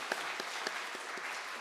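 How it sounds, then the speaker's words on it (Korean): A church congregation applauds to welcome new members: faint, scattered clapping with a few sharp, distinct hand claps over a soft wash of room sound. "먼저 우리 박수로 한번 환영할까요?"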